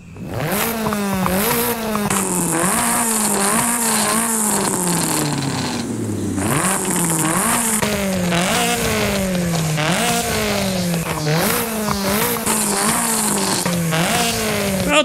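Polonez Trapez in Forza Horizon 5 revving hard through repeated gear changes, its exhaust rising and dropping in a steady loud rhythm with brief tire scrapes, close and continuous throughout.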